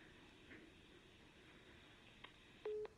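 A telephone line's hang-up tone after a call ends, heard as faint steady tone pulses near the end of a quiet, hissy stretch.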